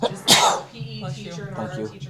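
A short, sharp sneeze bursts out near the start of a school board meeting, followed by a person talking.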